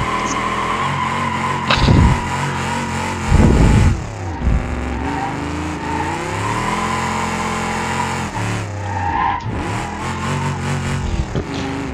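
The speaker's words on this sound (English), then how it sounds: "this looks like a perfect place to do a donut" A classic muscle car with a drift-spec setup revs hard through a donut in the BeamNG driving game, its engine note loud and steady, rising and falling in pitch with a few sharp bursts of throttle along the way.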